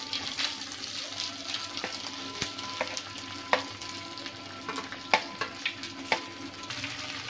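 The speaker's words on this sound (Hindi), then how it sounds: "अभी इसमें हम तिल डाल देंगे और जो मुठ्ठी हमने कट किए थे वो डाल देंगे" Sesame seeds and cut Gujarati mixed-vegetable muthiya frying in hot oil with mustard seeds: a soft, continuous sizzle broken by sharp pops and spatula clicks, fairly quiet and without talk.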